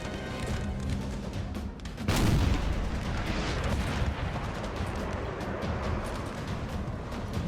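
Artillery fire from the Battle of Friedland in 1807 in Napoleon Total War rolls on as a continuous dense rumble, with a heavy boom near the two-second mark and battle noise dense throughout.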